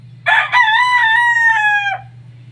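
A rooster gives a single loud, close crow that rises and is held for about a second and a half, then breaks off. A low steady hum runs underneath.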